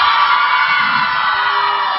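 Large open-air crowd at a municipal outdoor concert in Beykoz applauds and cheers, a loud continuous roar of clapping with whoops and shouts over a brief span.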